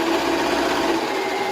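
A sewing machine stitches a hem on a back pocket, giving a continuous, even, fast mechanical whir at close range with no talking over it.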